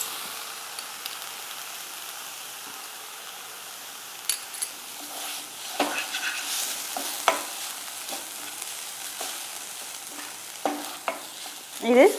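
Onions sauté in a pan for millet adai batter, a soft steady sizzle broken by scattered scraping stirs and light clinks of a spoon.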